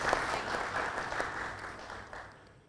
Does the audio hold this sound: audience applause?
yes